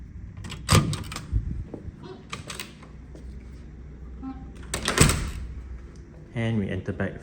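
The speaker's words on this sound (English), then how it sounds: "we enter back through the main door" A hotel suite's main door at the Putrajaya Marriott opens with a couple of sharp latch clicks and thuds, followed by footsteps and shuffling in the room, with a voice speaking nearby.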